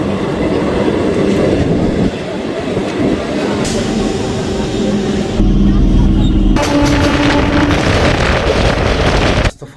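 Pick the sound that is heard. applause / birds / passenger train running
passenger train running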